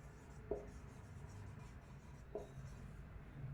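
A pen scratches faintly on paper in a quiet room, two short strokes spaced well apart over a soft background hiss.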